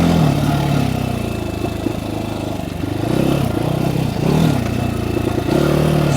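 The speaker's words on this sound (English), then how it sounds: "It's definitely a higher strung engine, so it doesn't really like to lug around. It likes to be up in the high RPMs." A Trailmaster TM 38E minibike engine revs steadily at high RPM, a loud, continuous buzzing drone with small rises and dips in pitch across the whole stretch and no talking.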